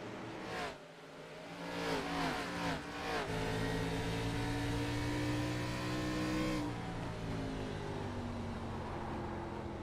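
An ARCA stock car in the iRacing sim at Richmond howls into a corner, the engine note dropping with quick downshifts before a sustained loud drone as it powers through, without talk.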